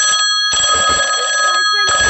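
A phone rings loudly and close, a steady electronic tone that cuts out briefly and starts again near the end, with no voices over it.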